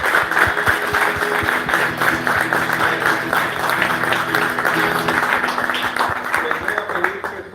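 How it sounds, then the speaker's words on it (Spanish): A congregation at a Catholic priest's talk claps steadily and loudly throughout, a dense continuous applause with voices mixed in underneath. "Y démosle un fuerte aplauso."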